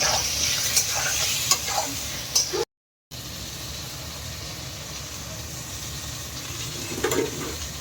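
Onions and potatoes fry in a pan while a utensil stirs them, giving a steady sizzle broken by scraping strokes, with one brief silent gap partway through.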